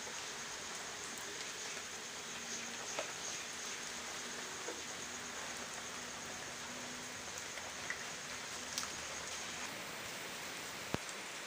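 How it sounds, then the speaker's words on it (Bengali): Heavy monsoon rain falls in a village, a dense, even hiss of drops on surfaces with occasional sharper patters and drips. It stays steady throughout with no voices. "এত বৃষ্টি হচ্ছে।"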